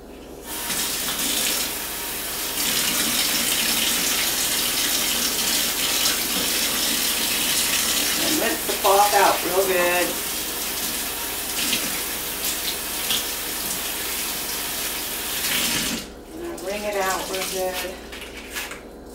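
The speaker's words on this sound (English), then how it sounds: "And then I spray the sink down where I run rinse water and dump the pan." Water sprays steadily from a sink faucet while dishes are rinsed at home, a continuous loud hiss that runs almost throughout, briefly cutting out near the end, with faint clinks of dishes mixed in.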